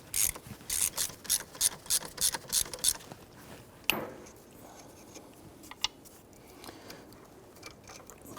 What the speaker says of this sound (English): Using 11/16 socket, go ahead and remove this nut here.